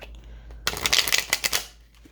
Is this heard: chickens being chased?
no